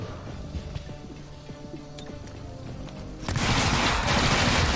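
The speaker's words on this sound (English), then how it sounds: "my only real option here is just to fire the weapon" Weapon fire in XCOM: Chimera Squad: after a few faint clicks and ticks, a loud, dense burst of shots erupts and continues as a close, sustained crackling roar.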